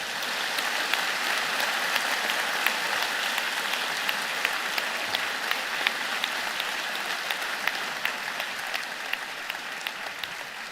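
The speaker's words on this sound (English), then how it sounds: "I would ask for a loud round of applause for all the hard work you have done and your success today" A university convocation audience applauds the graduates in a steady, dense wash of clapping with individual claps poking through, sustained evenly for about ten seconds in a large hall.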